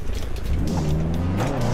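An engine in Assetto Corsa idles and revs as a car backs out of a narrow pit, a close, continuous tone rising and falling in pitch over a couple of seconds with no talk.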